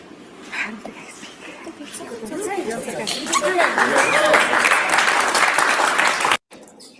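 A crowd claps and cheers, building from scattered clapping to sustained applause, mixed with excited chatter and voices before cutting off abruptly.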